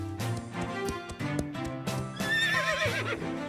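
Cartoon horses neigh and whinny in several bright, wavering calls over clip-clopping hooves and a light musical backing, with no voices.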